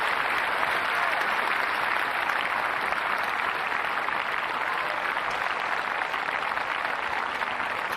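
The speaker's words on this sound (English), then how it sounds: "it's right that the crowd acclaim a player of the stature of Rafael Nadal" A tennis crowd at a Grand Slam match gives Rafael Nadal sustained, even applause that holds steady and loud for the whole stretch, a dense wash of many hands clapping.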